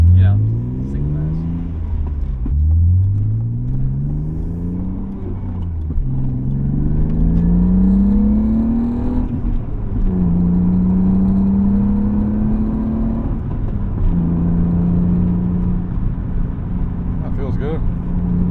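A 1998 BMW M3 E36 with a single mass flywheel, its engine and exhaust droning through the muffler while driving, pulling up through several gears with rising pitch sweeps and shift dips, loud and close, with people talking over it.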